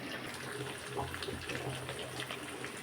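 Water-mixed spice paste poured into a pot of goat head curry, a faint steady trickle and gush of liquid with no talk.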